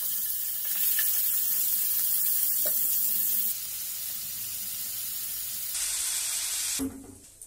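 Paneer pieces fry in hot rice bran oil in a kadai, giving a loud, even hiss and sizzle with a few small pops and crackles that drop off abruptly near the end.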